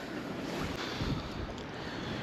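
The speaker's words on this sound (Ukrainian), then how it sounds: "Звісно, вітер дуже заважає" Wind buffets and rumbles across the microphone in a steady, rough roar with gusty low thumps.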